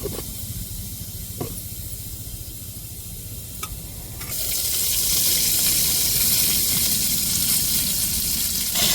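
Mustard seeds tempering in hot oil, a faint hiss at first that bursts into a loud, steady sizzle and crackle about halfway through, with no talking.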